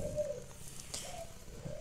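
Nestling birds, baby doves or pigeons, calling while hand-fed with feed from a plastic bag, soft cooing and thin whistly cries close up over steady background noise.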